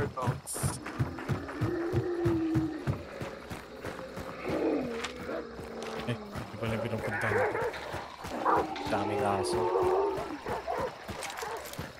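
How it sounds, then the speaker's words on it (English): Several dogs bark and yip in the video game Hunt: Showdown, repeated sharp barks spread through the clip beneath near-constant talk from players. "Why do I hear dogs?"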